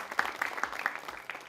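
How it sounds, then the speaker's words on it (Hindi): An audience at a health conclave in India claps to welcome a cardiology guest onto the stage, giving a brief, fairly faint patter of applause. "तालियों के साथ सर का एक बार स्वागत कर दीजिए।"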